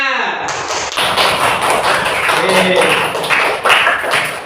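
A class applauding at once in a room, a steady dense clatter of many hands lasting throughout, with some voices mixed in.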